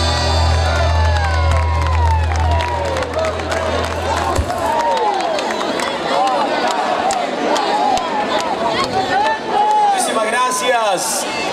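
An audience at an accordion show by a performer cheers and whoops loudly, a dense roar of shouting and whistles from a large crowd, with a voice speaking over it.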